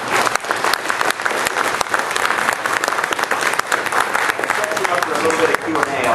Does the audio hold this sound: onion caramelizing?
no